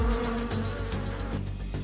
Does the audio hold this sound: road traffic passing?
no